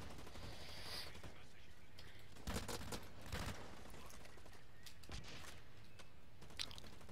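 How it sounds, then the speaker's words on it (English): Burst-fire gun shooting in the video game Blacklight Retribution, several short clusters of shots spaced through the clip over a steady background hum, with faint talk underneath. "I've got a burst fire gun, so this should be better"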